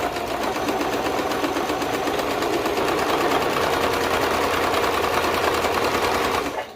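A sewing machine runs continuously, stitching a long fabric hem, giving a loud, steady rapid mechanical whir that holds for several seconds before cutting off at the end.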